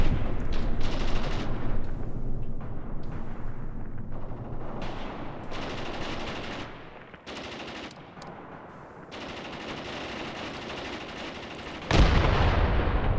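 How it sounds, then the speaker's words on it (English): Artillery and machine-gun fire in the Graviteam Tactics Mius war game, dense rattling bursts and heavy booms rolling on continuously, loud and close, easing briefly midway before a fresh heavy blast near the end. "let's continue with the artillery"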